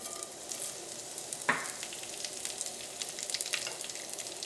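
Dried red chillies fry in hot coconut oil with a steady, crackling sizzle, broken by a single louder clink partway through.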